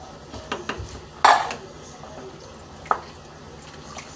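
Chicken and dumplings being stirred in a pot, with a few scattered clinks and scrapes of a utensil against the metal and one sharper knock, fairly close and moderately loud, no talking.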